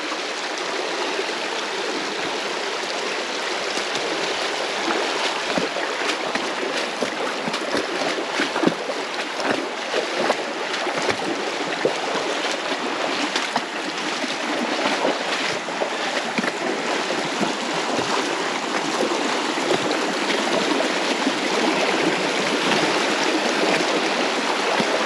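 Icy stream water rushes and splashes through a Utah slot canyon, a close, steady, fizzing flow that carries on without a break.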